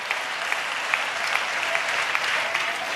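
A church congregation claps together during an Easter service, producing a steady, even wash of many hands with occasional sharper individual claps standing out, continuous for the whole stretch at moderate loudness.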